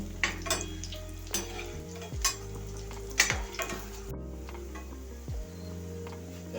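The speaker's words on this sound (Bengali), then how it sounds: "এভাবে আমি সব বলগুলোকে লাল করে ভেজে নেব।" Cabbage kofta balls frying in a pan of oil, a steady crackling sizzle punctuated by scraping stirs and clinks of a utensil against the pan as the balls are turned, with a low hum underneath.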